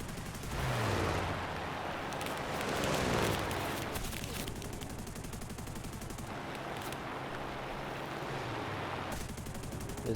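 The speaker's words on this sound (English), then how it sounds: "but you can do it with your machine gun." Aircraft machine guns fire in the War Thunder combat flight game as dense, continuous rapid bursts over a roaring engine drone, loud and close, with brief pauses between volleys and no talking.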